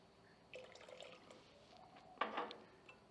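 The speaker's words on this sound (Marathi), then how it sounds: "आणि शेवटची जी पाण्याची वाटी उरली होती ती आपण घालू" Water poured from a bowl into rava dosa batter with cumin, green chilli and coriander, a soft liquid splash and trickle close by, rising briefly then a brighter burst of pouring near the end, no voices.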